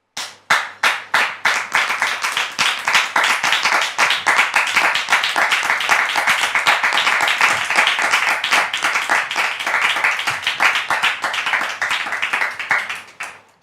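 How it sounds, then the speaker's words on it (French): An audience welcoming a guest with sustained applause, many hands clapping densely and loudly for over ten seconds before tapering off, with no talking. "je voudrais donc vous demander de la recevoir avec des applaudissements"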